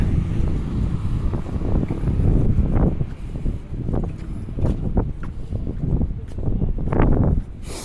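Wind gusting across the microphone while walking through the Halifax Public Gardens, a loud, continuous low rumble that rises and falls throughout.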